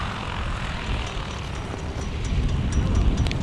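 A Stearman biplane's propeller engine drones loud and close at a flying circus airshow, a steady rough roar that swells slightly toward the end, with no talking.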